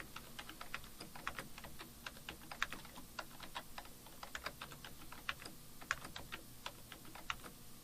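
Booming ship cannon volleys in Assassin's Creed Rogue go off in several heavy bursts, with voices shouting over the rumbling naval battle noise.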